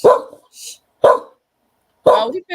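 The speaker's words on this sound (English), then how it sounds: "That's the first time he barked in a long time." Dog barks three times in short, loud bursts spaced about a second apart, close by in a quiet room during a sewing and quilting get-together.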